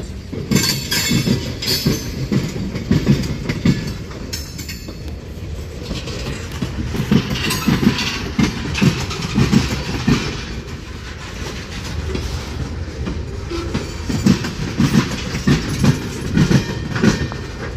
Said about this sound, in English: Haven't seen a train go that fast in a while.